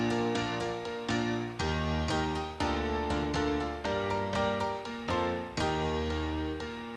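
Several piano parts layered together in a pop chorus, with dense repeated chords and octave notes struck in a lively, steady rhythm, full and close with no voices.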